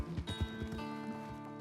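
A horse in Red Dead Redemption 2 moving in a quick, irregular run of hoof clops and thuds, close and fairly quiet, with a faint tonal drone of music underneath.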